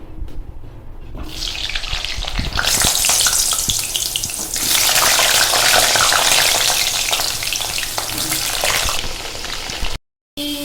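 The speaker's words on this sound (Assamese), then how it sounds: "মই এতিয়া ইয়াতে আলুখিনি অলপ ৰঙচুৱাকৈ ভাজি লম।" Potatoes fry in a little hot oil until reddish, making a loud, close, sustained sizzle with stirring noises that swells in the middle, then cuts out briefly near the end.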